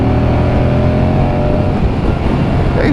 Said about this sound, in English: Very, very characterful engine.